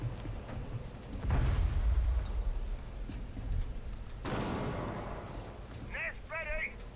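A breaching charge blowing a hatch in the Rainbow Six Siege video game, heard as a loud low boom followed later by a second rumbling blast, with short electronic beeps near the end.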